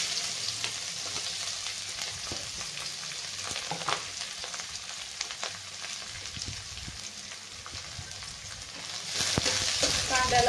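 Onion frying gently in hot oil with cumin seeds and curry leaves, a steady soft sizzle with occasional stirring clicks, growing slightly louder near the end; no talking.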